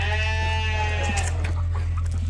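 Sheep bleat on a farm, a long wavering cry from a lamb or ewe near the pen, followed by softer scattered animal noises over a steady low hum.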